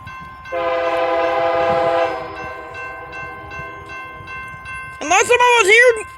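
A train crossing Lyons Highway sounds one long, loud horn blast lasting over a second, then the rumble continues faintly before a person starts talking close by.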